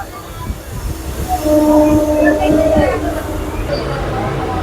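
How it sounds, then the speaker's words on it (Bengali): A local train on the Amta–Howrah line rumbles and squeals as it pulls away from the station, wheels grinding and metal screeching over a low roar, fairly loud and close. "এখন ট্রেন ছাড়ছে"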